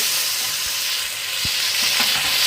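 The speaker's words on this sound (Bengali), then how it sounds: "ওভারনাইট ম্যারিনেট করে রাখা মাংসগুলো এরপর ভাজার জন্য দিয়ে দেওয়া হচ্ছে।" Overnight-marinated chicken pieces fry in white oil for chicken fried rice, a loud, continuous close sizzle with a few soft knocks and stirring sounds underneath.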